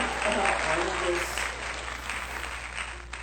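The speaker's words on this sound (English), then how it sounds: "can we take a moment to just give Tina here a round of applause" Round of applause from an audience, a dense burst of clapping that starts strong and slowly fades over a few seconds, with a voice faintly present.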